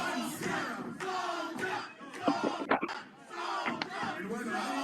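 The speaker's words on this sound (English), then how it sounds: "What's it like to hear them chanting your name like that?" Wrestling arena crowd chanting a wrestler's name right after a pinfall, a loud massed roar of voices with rhythmic shouted swells and brief dips, sustained through the whole stretch.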